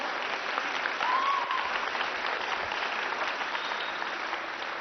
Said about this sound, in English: give them a round of applause for having the courage to come out